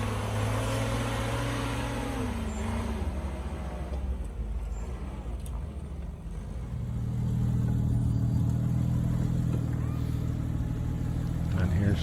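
A Jeep engine drones and rises in pitch as it works up an off-road climb, a steady mid-range rumble that swells louder toward the end, with a voice speaking over it.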